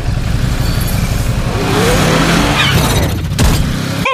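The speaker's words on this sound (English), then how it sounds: "Engine blast!" Ducati Monster SP rider skin in Mobile Legends game sounds a loud engine blast: a roaring, revving motor with skidding, tire-squeal-like swoops, close and continuous.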